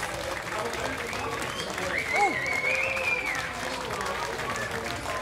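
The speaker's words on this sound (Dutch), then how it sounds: "applaus voor jezelf." Applause at a Dutch outdoor group event where people clap for themselves, a continuous patter of many hands under cheerful voices and a whistle-like call rising above the crowd noise.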